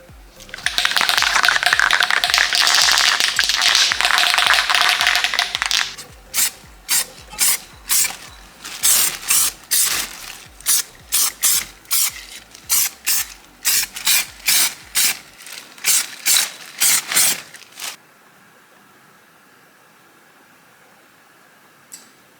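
A spray can of epoxy primer rattles loudly, first in a continuous blur of shaking, then in rhythmic bursts of clicking as the ball knocks inside, before falling quiet.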